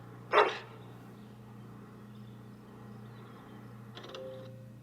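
A dog in the video game Dragon Age Origins gives one sharp, close bark, then a softer yip or whimper a few seconds later, over a steady low background hum.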